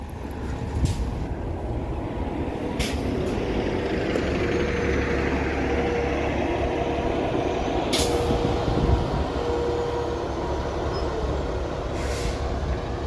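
Toronto city buses idle and move in the street with a loud, steady engine rumble, punctuated by several sharp hissing air-brake bursts spread across the stretch, plus traffic noise around.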